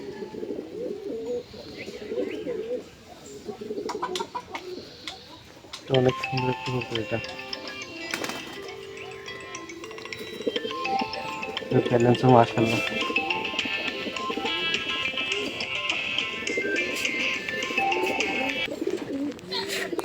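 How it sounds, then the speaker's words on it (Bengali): Racing pigeons coo softly in a loft, their low calls scattered behind men chatting in Bengali at close range. "আমার ফেভারিট একটা কবুতর এটা"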